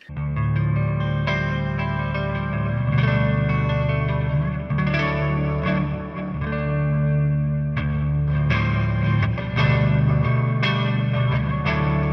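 A clean electric guitar through a Line 6 Helix rings out with lush stereo chorus and echo effects, sustained chords and arpeggios shimmering wide for several seconds, with no talking.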